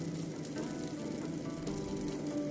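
Ribbonfish strips frying in oil in a wok for a Cantonese oil-burst dish give off a steady, dense sizzle that holds level throughout, close and unbroken, with no voices.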